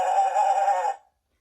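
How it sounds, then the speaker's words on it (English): A toy animal storybook plays a goat's bleat when pressed: one clear, slightly nasal electronic cry that lasts about a second and then cuts off cleanly into silence. "Goat."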